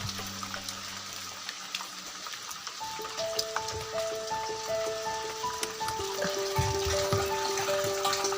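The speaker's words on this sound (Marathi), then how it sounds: "वाटतं पाणी पडतंय आता आवाज येतोय" Water pours steadily into a container, the pitch rising as it fills, with a continuous splashing stream and no talking.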